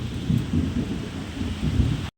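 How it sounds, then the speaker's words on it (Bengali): Heavy sudden rain pours steadily while deep thunder rumbles in rolling waves, loud and close, continuing for about two seconds before cutting off abruptly. "দুমদাম বৃষ্টি শুরু বৃষ্টির কোনো মানে কী বলবো"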